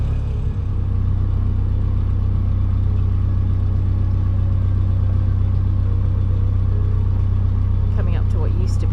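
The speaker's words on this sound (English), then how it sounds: "we've got the engine on now" The engine of a canal narrowboat on the Peak Forest Canal near Marple Locks runs close by in a steady low diesel chug and rumble, unbroken throughout, with faint voices or sounds flickering in near the end.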